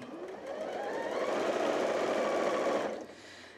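Sewing machine running steadily for about three seconds while quilting through batting and backing pieces of a large scrappy quilted tote bag, a continuous close whirring hum that stops near the end.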